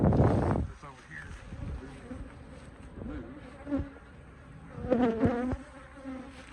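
Honey bees buzz around a hive frame during a hive inspection, a constant close insect drone with occasional louder passes, mixed with handling knocks, wind on the microphone and some brief voices.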